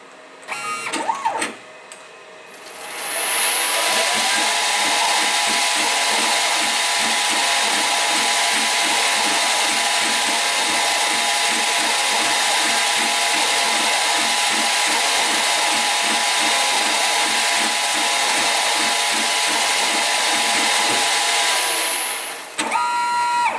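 A Mach3-controlled machine cutting threads at around 1000 RPM runs as a loud, steady mechanical whine with a rhythmic pulsing texture for about twenty seconds, starting and stopping abruptly with brief handling noises at each end.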